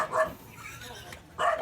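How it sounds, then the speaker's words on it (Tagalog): A dog barks a couple of short, sharp times at the start and again near the end, moderately close, with a quieter gap between. "May aso."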